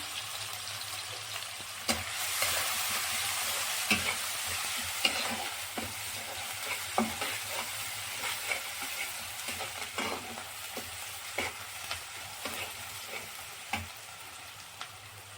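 Minced ginger and garlic for veg manchurian fry in a pan with a continuous close sizzle, broken by frequent clicking scrapes of a stirring utensil.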